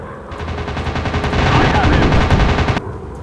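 Sustained rapid machine gun fire from warplanes in a World War II style game over Britain, a dense continuous rattle of loud bursts lasting about two and a half seconds with no talk.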